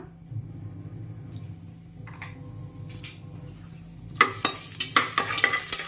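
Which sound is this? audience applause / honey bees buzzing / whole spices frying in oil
whole spices frying in oil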